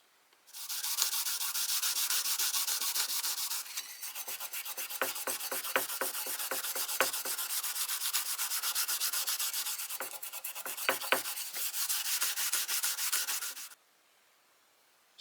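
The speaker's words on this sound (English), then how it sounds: "Let me go over this with that ultra fine abrasive pad" Steady abrasive scrubbing of an ultra fine pad against the metal blade of a vintage wood-handled putty knife, a continuous rasping hiss with rhythmic strokes, stopping abruptly near the end.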